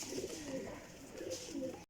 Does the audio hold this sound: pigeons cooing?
yes